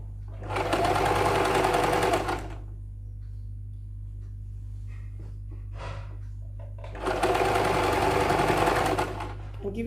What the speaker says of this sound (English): You have to be careful stitching chiffon.